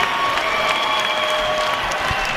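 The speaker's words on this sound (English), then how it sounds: "listen to the crowd react" A fight crowd roaring with cheers and applause after a hard-fought finish, a loud, continuous wall of clapping and shouting that holds steady throughout.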